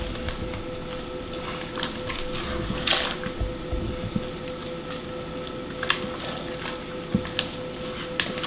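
Wet, squishy folding of 7-Up soda into cake batter with cinnamon and shredded coconut, soft irregular sloshes and smears close by, with a couple of brief louder squelches.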